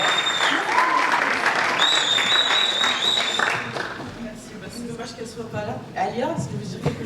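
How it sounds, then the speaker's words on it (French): An audience at an African mobile film festival award ceremony applauds, loud dense clapping that fades after a few seconds as voices and a presenter's talk take over. "Des applaudissements pour Vanessa, s'il vous plaît."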